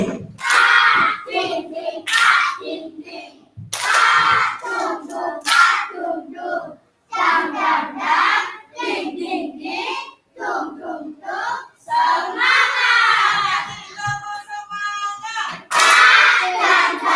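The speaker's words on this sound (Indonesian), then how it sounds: "wes ayo tepuk semangat" Group of people clapping in bursts of rhythmic, sharp hand claps with chanting voices between them, close and loud, repeated several times with pauses outdoors.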